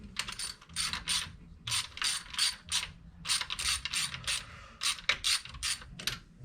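A ratchet tightens engine parts on a 1970 Chevrolet C10 motor, clicking in quick, close bursts of several strokes separated by short pauses.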